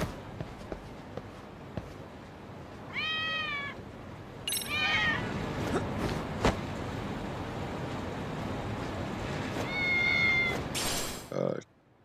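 Cat meowing inside the video game Lost Judgment, several short rising meows in separate bursts over steady game ambience with footsteps.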